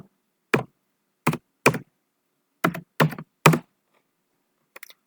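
A code is typed on a computer keyboard. Six or seven sharp, separate key taps fall at irregular intervals over a few seconds, close and clear against silence.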